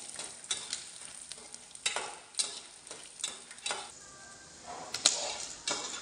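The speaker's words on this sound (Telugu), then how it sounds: "ఎండుమిరకాయలు, ఎల్లుల్లిపాయలు వేస్తాము." Dried red chillies and garlic frying in oil while being stirred for an Andhra-style purple chutney, soft sizzling with repeated scraping stirs at an irregular rhythm, close and fairly quiet, no talking.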